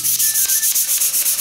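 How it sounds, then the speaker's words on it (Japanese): Rhythmic back-and-forth rasping of a file sanding the coated surface of a table tennis racket, close and steady with regular strokes, no talking. "ヤスリかけていきたいと思います。"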